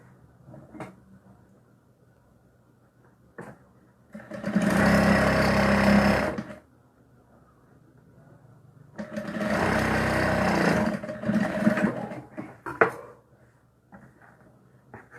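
A sewing machine runs in two loud bursts of a couple of seconds each, separated by quieter stretches with small handling knocks and clicks.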